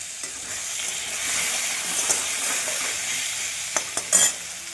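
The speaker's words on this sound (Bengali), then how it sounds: "আলুটা ভাজা হয়ে গেছে, আলুটা ভেজে তুলে নেবো এবার।" Potato pieces seasoned with salt and turmeric sizzle in hot oil in a pan with a steady hiss, then a few sharp clinks and scrapes of stirring near the end.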